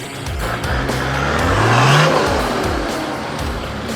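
A 4WD vehicle driving over wombat holes on the Blue Rag Range track in the Victorian High Country, its engine droning and rising as it pushes forward, loud and close, with rattles and knocks from the rough ground.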